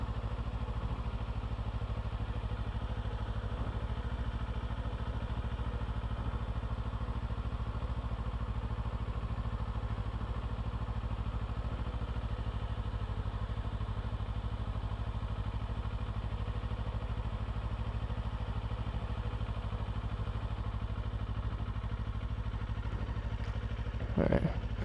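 A Kawasaki Ninja 500 motorcycle runs at low speed during U-turn practice, its engine a steady low drone with mild clatter, heard close and continuous from the rider's position, with a brief louder bump near the end.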